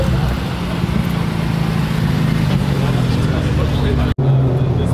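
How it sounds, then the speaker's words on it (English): Turbocharged cars rumble as they pull in at a car meet, a steady low engine drone with voices in the background and a sudden brief cutout near the end. "I heard a lot of boosted cars pulling in"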